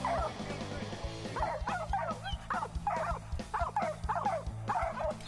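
Excited hunting dogs barking and yipping at a raccoon treed in a short tree in Louisiana, with several dogs giving rapid, overlapping barks in clustered bursts over a low background hum.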